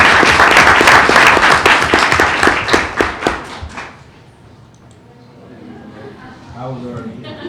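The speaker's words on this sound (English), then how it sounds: "Let's give her a round of applause." Applause at a school board meeting: a room full of people claps loudly and densely, then tapers off into quiet murmuring and voices talking.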